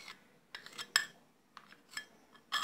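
A spoon scrapes and clinks against a bowl while cocoa powder is mixed into cake batter for an apple cocoa cake, in a quiet, close, irregular series of short scraping strokes.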